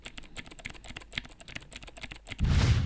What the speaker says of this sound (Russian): берем клавиатуру на каялочок Blue, очень шумная клавиатура, ну естественно кликающие свечи, и допустим тайпаем прямо у микрофона